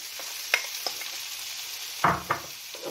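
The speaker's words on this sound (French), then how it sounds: "Au bout des 2 minutes, vous rajoutez les courgettes et vous allez cuire 1 minute." Zucchini is stir-fried in a wok with other vegetables: a quiet sizzle with a few sharp clinks and scrapes of tossing, and no one speaking.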